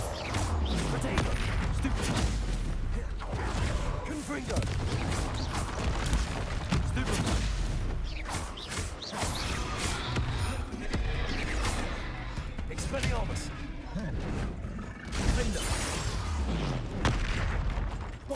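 Hogwarts Legacy spell combat fills the space with continuous magical blasts, crashes and explosive impacts in rapid succession, overlapping constantly at high intensity.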